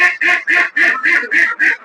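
Seven loud quacks from egg-laying farm ducks close by, evenly spaced in a quick regular rhythm.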